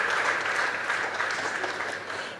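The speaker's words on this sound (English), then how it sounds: "Shall we give them a huge round of applause?" Steady, dense applause from a large audience at a school parents' day, sustained clapping at an even level throughout.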